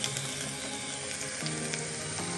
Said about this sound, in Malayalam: വെളുത്തുള്ളി ഇഞ്ചിയും കൂടിയുള്ള പേസ്റ്റ് ഇടും